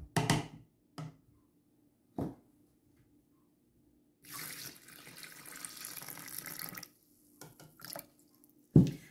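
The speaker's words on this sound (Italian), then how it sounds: "e verso l'acqua." Water pours into the bowl of a Monsieur Cuisine Connect food processor while pasta e ceci is made: a steady splashing stream of about three seconds, set between scattered knocks and clanks of utensils.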